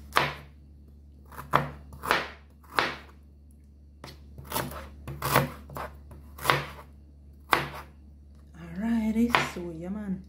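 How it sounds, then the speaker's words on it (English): A knife chops ginger on a board in sharp, irregular strokes, about a dozen hits spaced a second or so apart, close and clear, with a brief voice near the end. "I'm gonna cut my ginger up"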